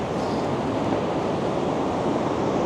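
Steady, dense wash of surf rolling onto Diamond Beach in Iceland at sunset, with continuous roar and wind buffeting the microphone, no distinct breaks between waves.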